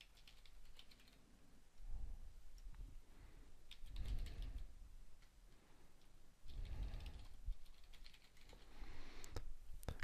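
Someone types a username on a computer keyboard at a login screen, a steady run of fairly close key clicks that comes in bursts and keeps going for about ten seconds with no one talking.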